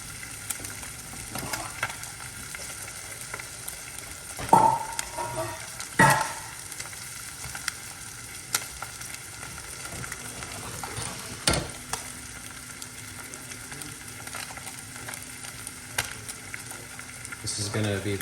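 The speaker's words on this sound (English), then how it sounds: "Just quickly put a sear on those guys, skin side down." Fish fillets sear skin side down in a hot pan, giving a steady low sizzle under room noise, with a few clanks of a utensil against the pan.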